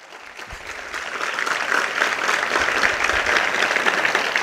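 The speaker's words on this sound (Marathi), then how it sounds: "जोरदार वाजवा एकदा टाळ्या जोरदार" A speech audience bursts into loud, sustained applause that swells after the first half second and holds steady throughout, dense clapping from a large crowd at a public address.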